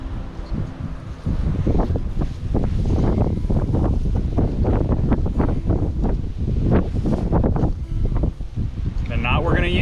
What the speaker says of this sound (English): Man, it is windy out here.